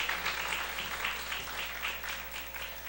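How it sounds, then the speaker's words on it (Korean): A church congregation applauds during a Sunday morning service, a dense, steady patter of many hands clapping at moderate loudness throughout, with faint pulsing in the sound and no speech. "큰 박수 한번 해주시기 바랍니다."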